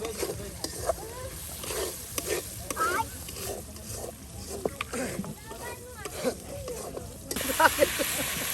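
Chopped potatoes and coriander leaves fry in spiced oil in a pan for a koi fish curry, with a soft sizzle, scraping stirs and irregular clinks, and a voice faintly in the background.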